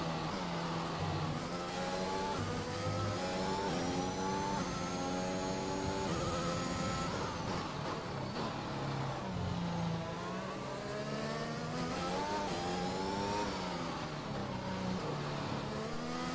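An F1 2021 race car engine in the video game screams as it accelerates through gears with rising and falling pitch sweeps, loud and continuous, down a hill toward the last sector at Portimao.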